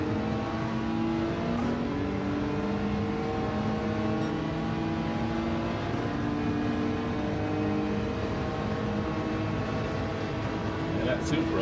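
Toyota Supra in Gran Turismo 7 accelerating: a sustained engine drone climbing steadily in pitch through the gears, loud and continuous.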